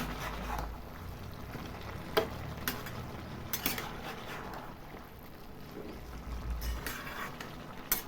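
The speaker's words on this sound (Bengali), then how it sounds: "চেরা কাঁচা লঙ্কা দিয়ে একটু ভালো করে নাড়াচাড়া করবো" Bottle gourd curry with fish head and slit green chillies being stirred in a pan, soft faint sizzling with a few sharp utensil clinks against the pot, no voices.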